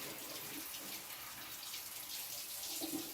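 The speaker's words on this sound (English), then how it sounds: "It's always a good idea if you're going to pour anything warm down your sink that you run your cold water." Cold water runs from a kitchen sink tap in a steady, soft, continuous stream, fairly faint and alone.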